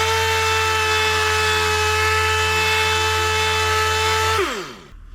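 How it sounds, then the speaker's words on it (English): A power sander whines at a steady high pitch on cracked ATV plastic, then winds down as the motor spins to a stop. "We'll keep sanding until this is all chalky looking like this."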